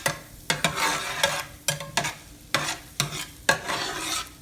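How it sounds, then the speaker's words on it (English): Garlic sizzles in melted butter in a pan, with a steady frying hiss broken by repeated sharp scrapes of a utensil stirring it, roughly twice a second, close and fairly loud. "you want to cook the garlic inside of the butter"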